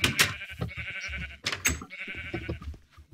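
A mini cow in the video game Minecraft calls out in several quick, bleating moos, close and fairly loud, bunched into two short bursts.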